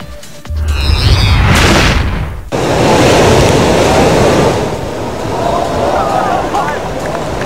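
Loud surf crashes and roars off Zambales with strong wind buffeting the microphone, a heavy wave breaking midway and the rush continuing after.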